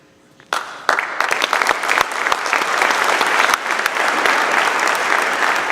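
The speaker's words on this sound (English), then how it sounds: "another round of applause to our leadership award" A crowd at an 8th grade elevation ceremony breaks into sustained applause, sharp claps starting suddenly and swelling into a steady, dense roar of clapping.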